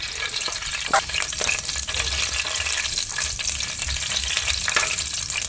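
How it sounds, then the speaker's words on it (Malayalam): Chopped tomato sizzles and fries in hot coconut oil in a pan while being stirred for a spicy mackerel curry. A steady, close crackling hiss runs with occasional scraping stir strokes and no talking. "തക്കാളി നന്നായി വഴണ്ടി വരുന്നവരെ എണ്ണയിലിട്ട് ഇളക്കുക"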